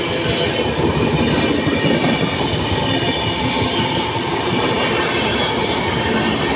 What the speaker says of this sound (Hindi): मेन लाइन पे आप देख सकते हैं एक ट्रेन आ रही है। सूबेदारगंज उधमपुर एक्सप्रेस